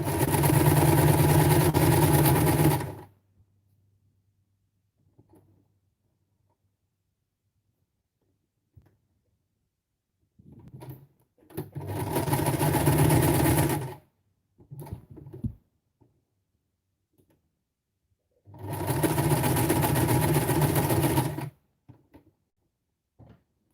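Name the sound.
sewing machine stitching fabric scraps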